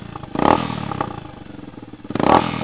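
Motorcycle fitted with a bamboo exhaust pipe with the bypass open, a close, loud idling engine with rattling pulses and two sharp crackling pops, one near the start and one near the end.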